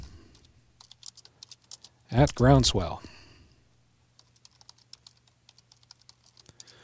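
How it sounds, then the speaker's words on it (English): Quick, light clicks of text being typed on a computer keyboard, close and fairly quiet, broken once by a short spoken phrase before the typing resumes. "So I'm going to start by typing in some text."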